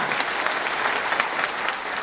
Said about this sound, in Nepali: कृपया जोरदार ताली स्वागत गर्नुहोला